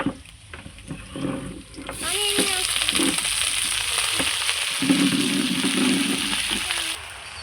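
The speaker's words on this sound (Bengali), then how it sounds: "রসুন আর কাঁচা লঙ্কাটা খুব সুন্দর করে ভাজা ভাজা হয়ে গেছে। এবার আমি দিয়ে দিচ্ছি ধুয়ে রাখা পাট শাক।" Washed jute leaves dropped into a pan of frying garlic and green chilli, setting off a loud, steady close sizzle with some stirring clatter, following a few quieter kitchen knocks.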